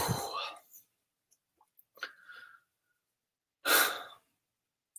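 A person draws a breath: a short airy inhale near the start, a small click and faint murmur mid-way, then a louder, breathy exhale or sigh before the end, close and otherwise quiet.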